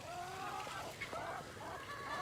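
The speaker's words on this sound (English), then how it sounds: "So the chickens are eating their breakfast at the moment" Chickens in a backyard coop feeding on cafe scraps, giving soft clucks and brief rising calls over a constant low background hiss, fairly faint and close.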